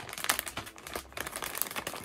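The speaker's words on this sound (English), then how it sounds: "They're all still wrapped up in these like plastic bags that they send them in." Plastic wrapping bags crinkle and rustle continuously as small collectible Disney World 50th Anniversary plush toys are unbagged, close-up crackling with sharp bursts and no talking.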